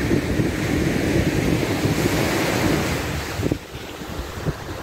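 Ocean surf and strong wind at Hampton Beach, New Hampshire, make a continuous loud roar of breaking waves with wind buffeting the microphone. The noise eases slightly near the end.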